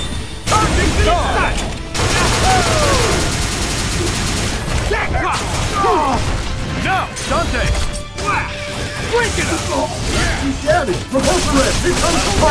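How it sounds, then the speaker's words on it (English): Iron Man fires his proton cannon in the fighting game Marvel vs Capcom Infinite, a loud barrage of crashing blasts and rapid impacts lasting many seconds, with character voices shouting over the din. "Here's the big one. Proton cannon."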